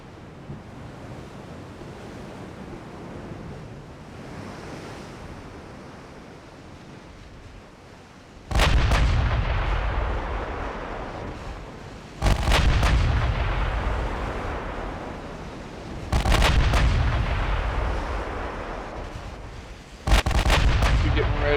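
Naval artillery guns fire in the Ultimate Admiral Dreadnoughts naval battle game, four loud booming salvos at steady intervals, each a sharp blast with a long rumbling tail, over a constant bed of ocean surf and wind.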